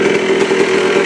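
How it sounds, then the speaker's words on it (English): Yamaha ATV engine idling after warm-up, a close, loud, steady buzzing drone with a fast even pulse and no voices. "Then what you do is you start it up and put it to an idle like mine has."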